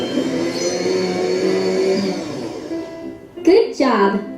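In a children's app game, a blender with a piece of lime whirs in a steady mid-pitched drone under talk, followed by two short, sharp rising whooshes near the end.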